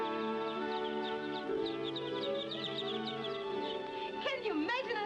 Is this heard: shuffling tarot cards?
no